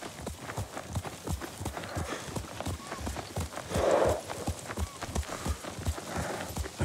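Horse hooves clip-clop at a steady walking rhythm during riding in Ghost of Tsushima, close and moderately loud over a faint ambient bed, with a brief breathy snort midway.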